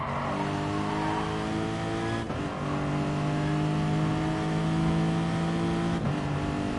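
Race car engine in Gran Turismo Sport during a 4-hour endurance race, a steady loud harmonic drone holding near-constant pitch, with brief dips around two and six seconds like gear shifts or lifts.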